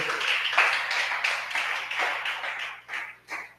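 A church congregation claps for the Lord, a dense, steady wash of many hands applauding together for a few seconds, then tapering off in a couple of final bursts.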